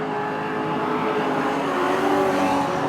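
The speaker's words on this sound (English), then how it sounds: "that run is really upsetting these race cars as Brook's looking to the lead now." Super street sedan race cars roar around the Cairns Speedway oval, a loud continuous engine drone with rising and falling revs as the pack sweeps through a turn.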